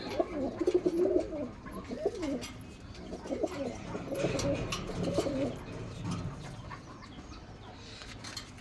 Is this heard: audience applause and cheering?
no